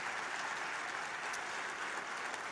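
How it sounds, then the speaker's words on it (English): Sustained, even applause from an audience at the Consulting Engineers of Alberta Showcase Awards 2018, a dense rolling clatter of many hands heard from a slight distance. "the rolling applause is just fine with me"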